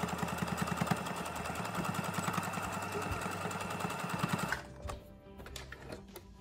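Sewing machine running a zigzag stitch over a fabric face mask, a fast steady mechanical whir with rapid needle pulses for about four and a half seconds, then stopping and leaving faint clicks and handling noise.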